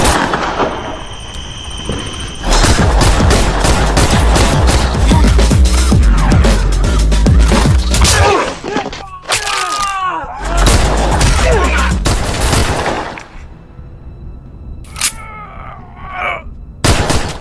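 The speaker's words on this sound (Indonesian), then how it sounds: "Tampak beberapa orang bersenjata menembaki ke arah mereka" Armed men open fire in an action film shootout, with a dense run of loud, sharp gunshot bursts that nearly fill the clip, pausing briefly before starting again and then thinning into scattered shots near the end.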